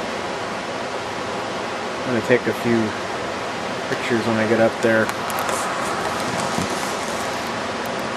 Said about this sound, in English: the cool little waterfall right there